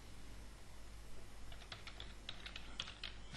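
Computer keyboard typing starts about halfway in, a quick run of close, crisp key clicks over a low steady room hum with no talking.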